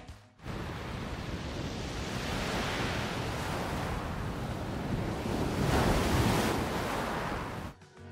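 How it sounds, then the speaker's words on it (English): Sea waves surge and wash continuously onshore, a steady broadband roar that swells slightly toward the end, with some wind noise and no voices. "That's the sound of the sea."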